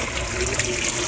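Running water rinsing almonds, a steady close splashing and trickling wash with no pauses and no voices.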